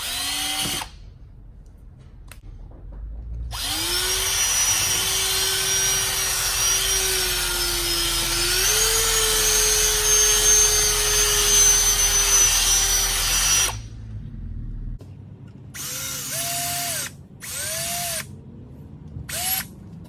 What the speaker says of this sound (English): we're gonna start drilling into this to break away the metal that's on here